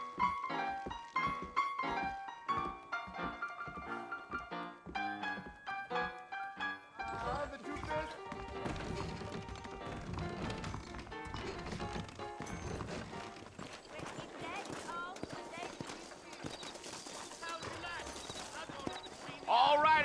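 Horses trot in the Western video game Red Dead Redemption, a steady clip-clop of hooves running through the scene under a thick bed of music, with people speaking over it.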